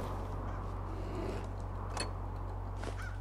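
Crows caw in the Fallout 4 game world during exploration of Nuka-World, a few short harsh calls around the middle and near the end over a steady low background hum.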